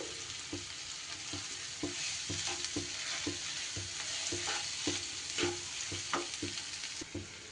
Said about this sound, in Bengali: জাস্ট একটু নাড়িয়ে নিয়ে আমি এবার চটকে নেওয়া আলুটা দিয়ে দিলাম